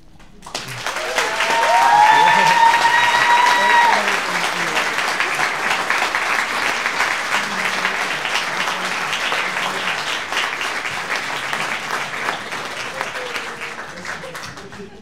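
An audience at an immigrant storytelling event breaks into loud, sustained applause, with a brief whistle or whoop near the start.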